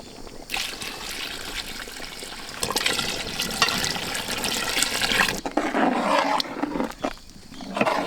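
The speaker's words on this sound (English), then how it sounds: "Add some water." Water pours into a pan of capsicum masala curry with chilli powder and masala paste, a loud continuous splashing and gurgling that stops briefly and resumes, close and alone.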